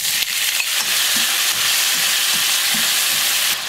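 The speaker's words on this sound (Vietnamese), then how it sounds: "Mình xào ốc trên lửa lớn nha các bạn." Loud, constant sizzling from snails stir-frying over high heat with shallots and ginger, with occasional scraping and stirring sounds underneath, no talking.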